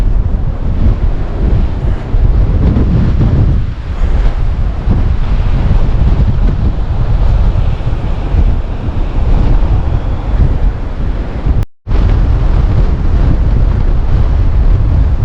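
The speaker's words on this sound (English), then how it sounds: "It's really windy down here, so I apologize for the noise" Strong wind buffets the microphone in a constant loud roar on the Oregon Coast, with surf and waves churning beneath and a brief dropout near the end.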